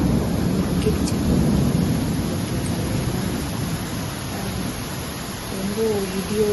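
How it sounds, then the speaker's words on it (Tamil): Heavy rain pours steadily in a thunderstorm, a dense hiss with low rolling thunder rumbling beneath it, continuous and loud throughout. "ரொம்ப இடியோடு மழை தொடர்ந்து பேஞ்சிட்டே இருக்கு."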